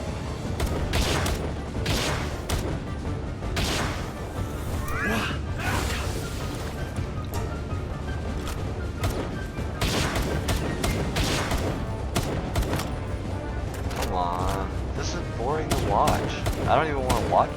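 Rapid weapon fire in a video game, with loud, closely spaced shots and bursts that repeat and cluster, set against busy game effects and whooshes, with a voice speaking over parts of it.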